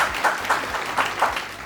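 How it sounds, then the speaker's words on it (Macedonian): An audience applauding at a live music show, steady moderate clapping with rhythmic bursts, fairly distant and without voices. "Ве молам голем аплауз за Панчо и за нашите пријатели"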